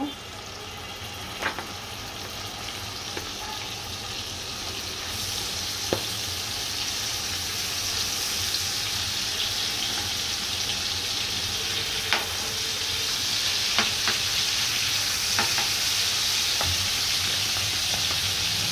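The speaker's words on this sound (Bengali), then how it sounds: "তেলটা গরম হলে মাছগুলো ভেজে নিব।" Koi fish fry in hot oil with a loud, steady sizzle and crackle that keeps up close and unbroken throughout, broken only by occasional small clicks of the pan and utensil.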